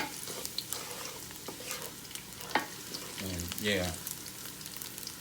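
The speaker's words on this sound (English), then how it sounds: "first I'm going to put my garlic in here and just saute this up right quick, a little" Garlic sautés in a pan, a steady sizzle and fry with stirring clicks throughout, as someone speaks briefly over it, alongside shrimp and veggies cooked in a Power XL.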